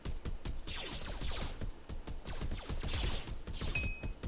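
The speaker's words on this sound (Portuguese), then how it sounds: "Troca de tiro." Rapid exchange of blaster gunfire in a Minecraft Star Wars mini-game, dense overlapping shots with sharp repeated bursts throughout, loud and close with no talking.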